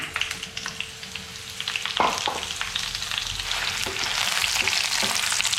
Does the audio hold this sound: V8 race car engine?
no